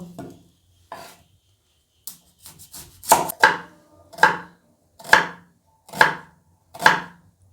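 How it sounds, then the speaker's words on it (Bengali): A knife slices onions into thin strips on a board in a home kitchen, with the momo filling being prepared. A few scattered cuts give way to a steady series of about six crisp, close chops, and no one speaks. "এদিকে পেঁয়াজগুলো কেটে নেব"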